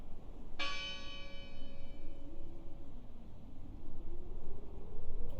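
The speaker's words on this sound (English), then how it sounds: "Listen! The bell! They're still in there!" A single bell strikes once in the game Draugen, its bright ringing tone decaying slowly over a low, windy ambient rumble.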